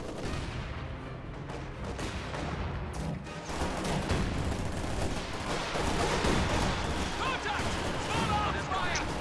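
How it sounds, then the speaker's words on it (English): Stuka dive bomber attack and artillery barrage in a World War II strategy game, dense rattling gunfire and booming impacts building into a continuous loud clamour, with faint voices underneath. "Stuka coming in on this Soviet position."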